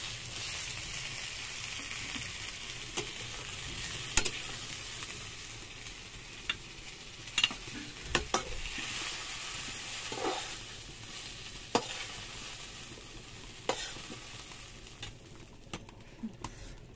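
Eggplant pieces fry in hot oil in a kadai with a steady, dense sizzle, broken by occasional stirring clinks and scrapes; no voices.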